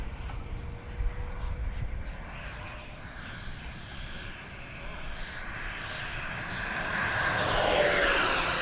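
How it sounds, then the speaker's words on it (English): An E-flite SU-30 twin 70mm electric ducted-fan RC jet sweeps past inverted, a steady rushing whine with a thin high tone that swells louder toward the end as it nears, over outdoor wind noise. "Let me try an inverted pass with it here, Steve."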